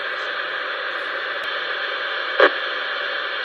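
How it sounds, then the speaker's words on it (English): Steady broadband radio noise interference, a constant hissing static across the band with a brief louder crackle burst near the end, heard alone. "It's broadband."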